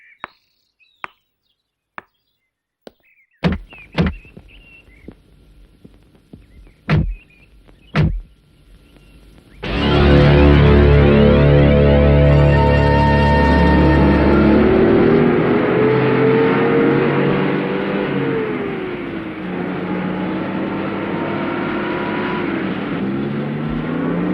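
A car in a Hindi-dubbed South Indian action film: a few sharp knocks are followed by a loud engine that roars up suddenly and keeps running steadily and close by.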